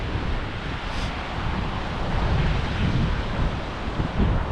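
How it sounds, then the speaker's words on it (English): Sea waves break steadily along the coast at St Andrews beach in Fife as the tide comes in, a continuous broad roar with wind buffeting the microphone throughout. "Anywhere there's a coastline and there's these beautiful sea waves"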